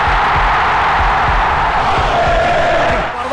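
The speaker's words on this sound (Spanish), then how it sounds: "¿Te has dado cuenta de todos los gritos que hay en un partido?" A football match crowd roaring and shouting in a dense, loud, continuous wall of voices that fills the whole moment without a break.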